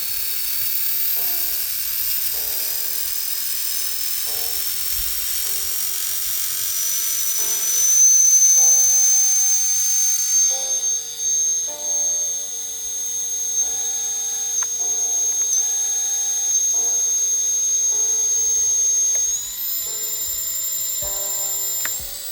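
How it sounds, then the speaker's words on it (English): The tail motor of a small RC helicopter, a Rotorflight-powered C189 build, spools up slowly. A thin high whine rises gradually in pitch over a softer whirring drone and runs throughout with no talk. "the tail motor's working. Got a super slow spool up on it"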